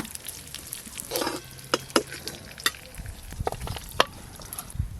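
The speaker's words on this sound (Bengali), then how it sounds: "আলুগুলোও কিন্তু বেশ ভালো করে লাল লাল করে ভাজা হয়ে গেল" Potatoes fry in a pan while a spatula stirs them, with a soft sizzle beneath a series of sharp scraping clicks and knocks at irregular intervals, close and fairly quiet.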